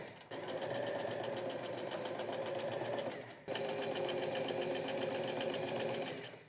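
A sewing machine runs in two long continuous bursts, stitching the lining sleeves of a raincoat, with a fast steady mechanical whir and a brief pause between runs.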